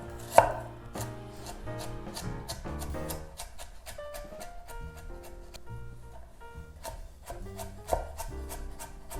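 A knife chops about a thumb length of ginger on a cutting board in a rapid, even run of crisp knocks, close up and alone, with a couple of heavier strikes near the start and end.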